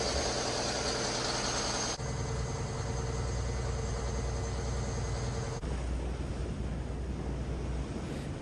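Marine engine of a classic Moreton Bay cruiser running steadily in its engine room, a loud continuous low drone with mechanical hum and rushing noise throughout.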